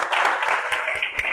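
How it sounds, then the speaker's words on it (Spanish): Short burst of clapping from a small group after a plant transplant, brisk close claps with a faint voice underneath. "Un aplauso ahí para Antonio."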